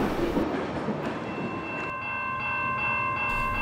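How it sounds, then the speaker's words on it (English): CPKC freight train I-165, a CP trackage rights train, rolls past steadily at close range, with a continuous rumble of rail cars and wheel noise and a bright, sustained ringing tone rising toward the end. "The train in question turns out to be I-165, the regular CP, now CPKC, trackage rights train."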